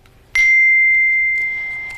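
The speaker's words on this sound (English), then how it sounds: "When their time is up, you will hear a bell." A single debate timer bell strikes once with a sharp, bright onset, then rings on as a clear sustained tone that fades slowly, heard alone in a quiet room.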